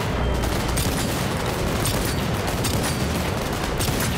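Pistol gunfire in the video game Cyberpunk 2077: Phantom Liberty rattles out as a loud, unbroken barrage of shots blending with booming combat noise throughout.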